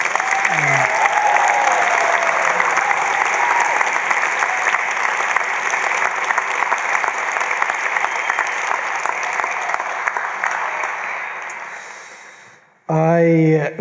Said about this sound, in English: I'd love us to just give us a huge round of applause.